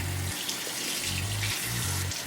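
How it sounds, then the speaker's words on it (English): Tap water running steadily over a makeup brush being rinsed and squeezed in a sink, close and continuous with the flow interrupted in short pulses. "So then I am going to run it under the water and squeeze it out."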